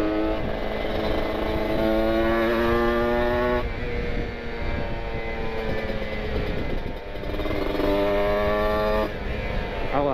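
Kawasaki Ninja RR two-stroke motorcycle with an R9 exhaust, close and loud, its engine note climbing through repeated rising revs and gear changes while riding.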